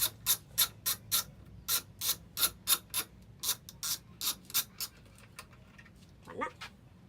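Close, crisp ratchet clicks in a steady run of strokes as 12 mm nuts and bolts are loosened on a 1993 Mazda Miata, with a brief rustle near the end.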